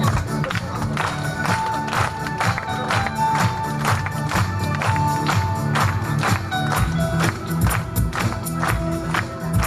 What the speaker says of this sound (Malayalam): ക്ലാപ്പ് ചെയ്യാമോ?